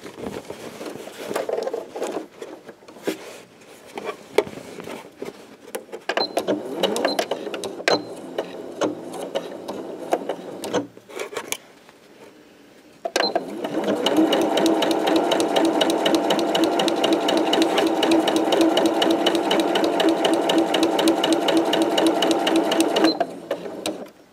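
A sewing machine stitches a tote bag, starting with handling and short stop-start runs, then a long steady whirring run of rapid needle clatter, close and loud.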